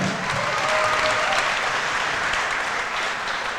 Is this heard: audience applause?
yes